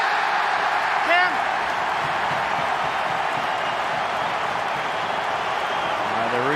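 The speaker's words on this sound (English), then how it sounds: "The Roosters crowd like this one." Rugby league crowd of Roosters fans roaring in a broad, sustained wash of cheering beneath a commentator's voice, with a brief whistle near the start.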